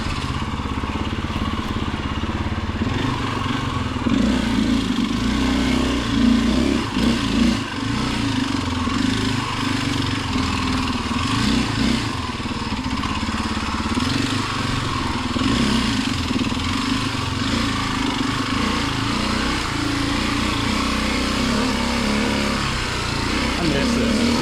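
A motorcycle, likely a 790, drones steadily on a trail ride over wet roots, its engine rising and falling slightly with throttle. The engine note stays fairly close and persistent, with muffled voices at times.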